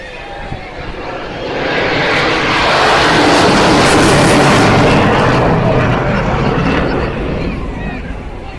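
At the 2013 Clacton Air Show, a two-pilot jet trailing heavy smoke flies straight in low, its loud roar swelling, holding at a peak and then fading. A commentator talks over the noise.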